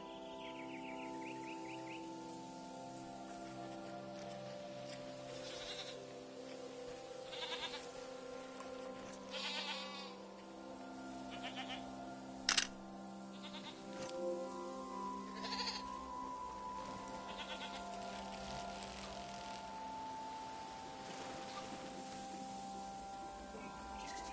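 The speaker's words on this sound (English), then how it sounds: "I'm petting this goat for you." A goat being petted bleats repeatedly over about twenty seconds, its wavering calls rising and falling against a steady outdoor background hum.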